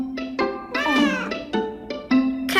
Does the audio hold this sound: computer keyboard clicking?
no